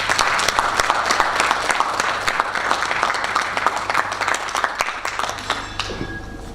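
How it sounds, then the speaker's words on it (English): A hall audience gives a hearty round of applause for Dr. Mathanda, a dense, steady wash of many hands clapping close and loud for several seconds before it thins out near the end. "can I solicit a hearty round of applause for Dr. Mathanda?"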